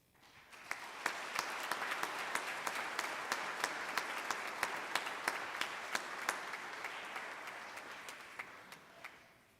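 A graduation ceremony audience claps after 8th grade student speeches at a Catholic school, steady moderate applause with a few sharp individual claps standing out, swelling and then tapering off.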